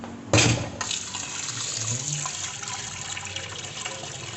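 Running water rinses dal lentils for an Indian moringa-leaf curry, a steady broadband wash after a brief louder splash at the start, close and continuous with no talk.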